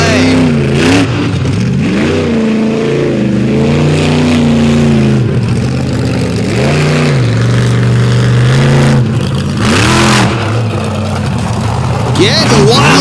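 A Dodge monster truck engine revs hard on dry clay at an outlaw monster truck drag event, loud and continuous with rising and falling pitch sweeps, close up, with an announcer's voice running underneath.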